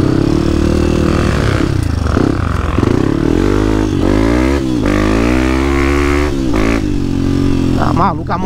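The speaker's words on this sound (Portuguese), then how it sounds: "a moto tá muito forte" Dirt bike engine revving hard on a busy forest trail, a loud, close, continuous roar with rising and falling pitch sweeps as the throttle opens and closes, with voices talking over it.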